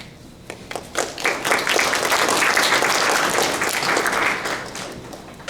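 An audience at a student leaders' panel conference bursts into loud, sustained clapping that swells quickly, holds dense for a few seconds, then tapers off.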